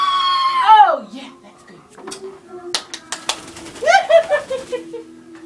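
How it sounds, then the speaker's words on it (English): A pet bird close by lets out a loud, falling screech, then a run of sharp clicks and squawky chatter. "Silly bird."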